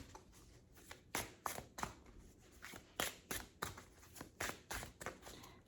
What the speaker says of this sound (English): I usually shuffle like this with this deck.